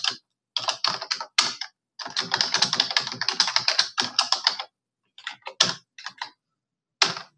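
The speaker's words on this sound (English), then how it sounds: "now let's type more information in the Docker logs." Typing on a computer keyboard while entering information, with dense bursts of rapid key clicks separated by short pauses, close and clear with no talking.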